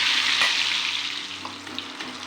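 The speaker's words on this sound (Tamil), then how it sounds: "இந்த சூடான எண்ணெயில் வாழைக்காயை சேர்த்து எல்லாத்தையும் ஃப்ரை பண்ணி எடுத்துக்கலாம்." Plantain pieces, already boiled, frying in hot oil for a lunch side dish give a steady close hiss of sizzling, with a few faint ticks and pops scattered through.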